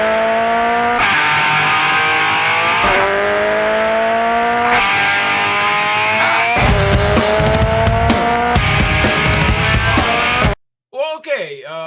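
Guitar and DJ turntable effects imitating car sounds, with sustained revving tones that climb in pitch, screeching skid-like swells and choppy scratches at the opening of a rock song, loud and layered.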